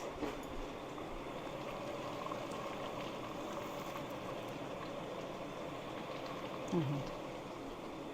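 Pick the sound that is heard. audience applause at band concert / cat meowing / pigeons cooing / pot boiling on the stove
pot boiling on the stove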